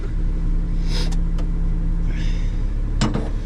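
A truck engine idling as it warms up in the cold, a steady low rumble running throughout with a few brief clanks and rattles over it.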